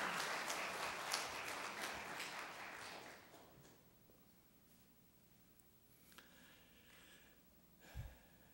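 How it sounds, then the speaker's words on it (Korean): Church congregation applauding to welcome a visiting bishop at a Sunday service, the clapping moderately loud for about three seconds before fading to quiet room tone with a few small knocks. "그냥 박수로 한번 환영했으면 좋겠습니다."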